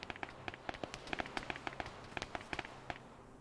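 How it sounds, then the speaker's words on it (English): Distant machine guns firing in a video game, quick irregular bursts of sharp cracks that come and go against a faint background hum, with no talking. "We're hearing the machine guns firing off as well."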